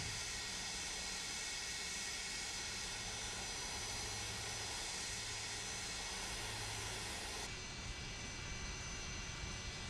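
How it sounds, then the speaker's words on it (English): Airliner wing slats retract on a charter flight, heard from inside the cabin as a low whirring hum under a loud, constant jet engine roar, with a shift in the drone near the end. "Slats coming up now."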